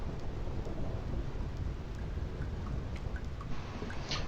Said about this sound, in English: So, ironically, we are having a thunderstorm here.